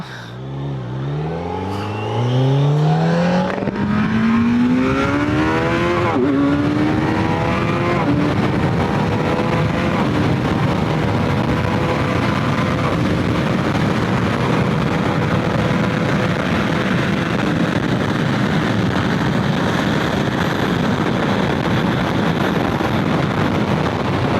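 A 2026 Kawasaki Z900 motorcycle ridden in sport mode revs hard through rising gears, its engine note sweeping upward repeatedly before settling into a loud, sustained roar with heavy wind rush at speed.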